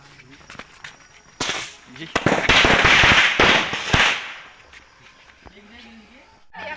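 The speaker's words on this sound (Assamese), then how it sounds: "এতিয়া ফটকা মাৰি আছো" Diwali firecrackers burst in a rapid crackling string, loud and close, with sharp pops before and after the main volley.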